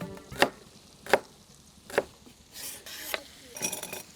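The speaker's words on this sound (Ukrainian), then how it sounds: "Цибулю нарізаємо не дуже дрібно." A knife chops an onion on a cutting board in several sharp, separate strikes, close up, followed by quicker scraping and tapping.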